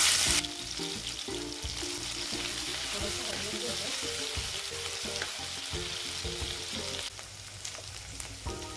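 Ginger, chili and garlic paste fries in hot oil in a kadhai for veg Schezwan rice, a loud continuous sizzle with stirring scrapes and clatter, easing off near the end.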